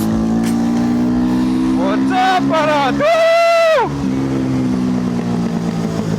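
A car engine revs up and down in short bursts over a steady rumbling exhaust drone, outdoors in freezing winter cold, while someone speaks briefly nearby.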